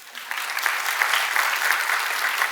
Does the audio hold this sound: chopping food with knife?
no